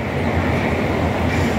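A long train at a station, a steady dense rumble of rolling wheels and carriages, loud and close, continuous through the short stretch with no voices.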